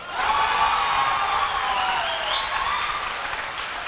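Sustained audience applause in a lecture hall, a dense even wash of clapping with a few faint shouts, steady throughout.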